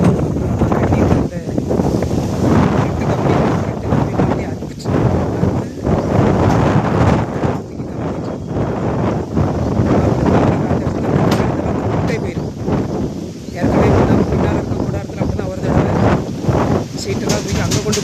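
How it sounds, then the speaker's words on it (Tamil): Strong, fierce wind blows hard, buffeting the microphone with a continuous loud roar that swells and dips in gusts throughout, while a voice talks faintly underneath. "காற்று பயங்கரமாக காற்று அடிக்குது"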